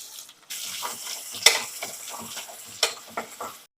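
Onion and green chilies frying in a pan make a soft, intermittent sizzle, with irregular scraping stirs and short bursts of crackle close by.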